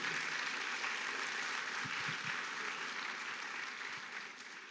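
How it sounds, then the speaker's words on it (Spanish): A church congregation applauds, a broad, continuous wash of many hands clapping that holds steady before easing slightly toward the end, with no speech over it. "Dale un fuerte aplauso al Señor por eso."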